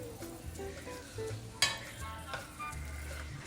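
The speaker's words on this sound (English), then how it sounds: "I'm gonna raise it because I do want to sear it on all sides" Turkey sears in a hot pan for an applewood Thanksgiving turkey, giving a steady close sizzle with soft stirring scrapes and one sharp clink partway through.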